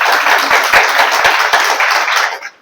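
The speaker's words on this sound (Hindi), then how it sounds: "वैसे तो ताली नहीं बजाते हैं, पर हमारी बहन नूतन के लिए जरूर बजाई जाए।" Audience applause at the closing session of a women's training camp, a dense sustained burst of many hands clapping close by for about two and a half seconds before tapering off at the end.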